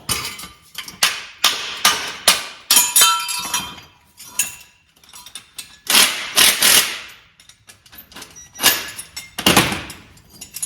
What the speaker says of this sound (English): So these hammers come in nice sometimes.